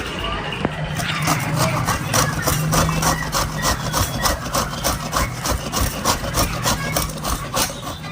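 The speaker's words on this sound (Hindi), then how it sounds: "ठकुआ बनाने की तैयारी हो रही है, नारियल घिस रहे हैं ये।" Fresh coconut grated by hand to prepare thekua, a close, steady run of rhythmic rasping strokes that scrape on without pause, with faint voices in the background.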